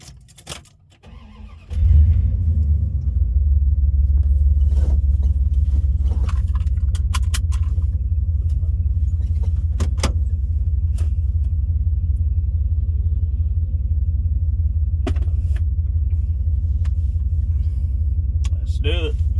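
A car with a rebuilt 46RE transmission starts up after some brief clatter, then runs and drives with a steady, loud, low engine rumble throughout. Faint clicks and rattles can be heard over the drone.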